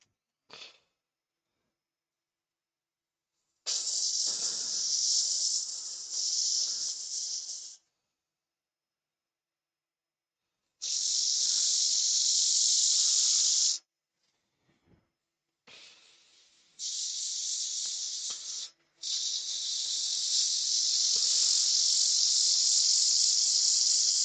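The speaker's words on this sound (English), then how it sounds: "Right, so let's get it sanded up. Sanded from 120 up to 400 grit because we're going to colour it." A power sander works wood through grits from 120 to 400, its bright, steady hiss running in several separate passes with silent gaps between them.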